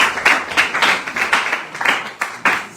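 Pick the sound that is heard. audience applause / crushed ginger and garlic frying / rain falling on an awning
audience applause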